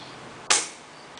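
A single sharp BB gun shot fired at a target outdoors, one close crisp crack with a short decay, otherwise quiet.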